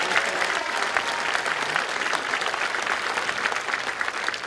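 Sustained applause from the crowd at a high school commencement ceremony, a steady, dense patter of many hands clapping at even loudness throughout, with no voices over it.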